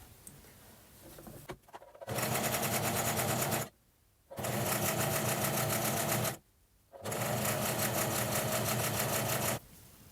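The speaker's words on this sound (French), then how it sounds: "On va tout piquer au long jusqu'en bas." A sewing machine stitches a long straight seam down fabric, running loud and close in three steady bursts of fast, even needle chatter, with brief quiet pauses between them.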